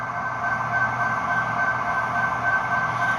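Athearn Genesis Norfolk Southern SD70ACe model locomotive with Tsunami2 DCC sound, its steady diesel engine drone running continuously at moderate volume, with a sustained high whine layered over the hum.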